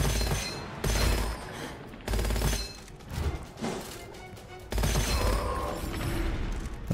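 Bursts of gunfire from a weapon in the shooter game Gunfire Reborn, several loud clustered volleys with short gaps between them, close and harsh.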